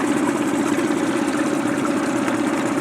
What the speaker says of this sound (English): And again, listen to this engine.